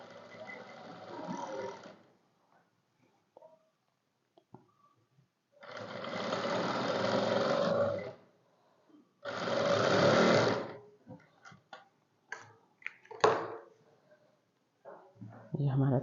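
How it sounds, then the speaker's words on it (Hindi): A sewing machine stitches a sleeve design in two steady runs of about two seconds each, separated by pauses, with a person talking before and between the bursts. "बहुत हल्के हाथ से आहिस्ता आहिस्ता मशीन चला के आप सिलाई लगाएं"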